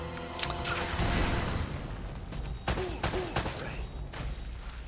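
A grenade explosion in Uncharted: Drake's Fortune lands as a loud, rumbling boom, followed by a few sharp gunshots and crashes. The sound is close and dense, with no clear speech.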